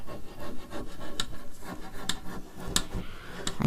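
A bone folder scrapes along with a steady rasping rub, broken by several sharp clicks as it strikes glass, close and with no talking.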